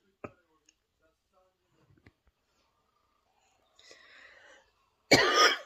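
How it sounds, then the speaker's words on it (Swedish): A few faint clicks and rustles, then a single sharp, close cough bursts out at the end. "Jag har sån hosta."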